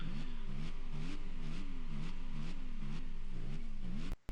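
Racing car engines in a video game rev in a steady pulsing cycle, rising and falling roughly twice a second. The loud, buzzy tone continues before cutting off abruptly at the end.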